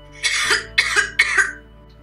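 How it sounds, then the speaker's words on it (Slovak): Three evenly spaced coughs, recorded for an interactive reading-primer app, sounding close and clear with brief silent gaps between them. "Kašľať."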